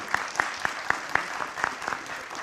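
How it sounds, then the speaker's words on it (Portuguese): Applause at a public hearing on pension reform in the Federal District's legislative chamber: sparse, evenly spaced claps from a small group, faint and fairly distant, with no talking. "Nós não temos uma salva de palmas para ele"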